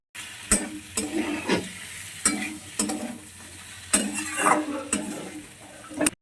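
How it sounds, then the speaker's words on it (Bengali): Fried fish pieces being stirred through potato and eggplant in a sizzling pan, with repeated loud scraping strokes of a spatula against the pan at irregular intervals over a steady frying hiss. "এখন ভালো করে নাড়াচাড়া করে নেব আরেকবার"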